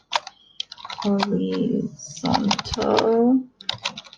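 Typing on a computer keyboard, quick clicking keystrokes heard at the start and end of the clip, mostly under a person speaking.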